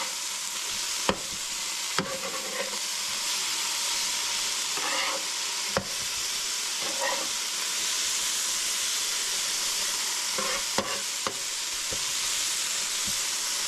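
Vegetables frying in a skillet at home, a steady close sizzle and hiss broken by a few sharp clinks and scrapes as they are flipped and moved, with no talking.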